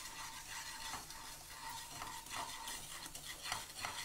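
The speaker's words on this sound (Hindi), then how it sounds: "हम इसे लो फ्लेम पर ही भून रहे हैं।" Chilli halwa roasting over a low flame while being stirred in a pan, with a steady soft sizzle and irregular scraping strokes of a spoon against metal throughout.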